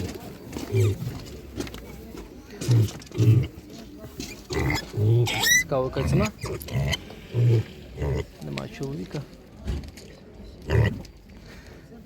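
Several pigs grunt and squeal in short bursts nearby while people talk over them at a busy outdoor animal market in Khryplyn, Ivano-Frankivsk.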